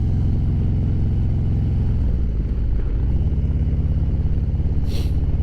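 A 2018 Harley-Davidson Road Glide Ultra on the road from Seattle to Issaquah, its engine a steady close low rumble with wind rush, easing slightly mid-ride before holding again.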